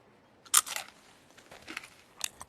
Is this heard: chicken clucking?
no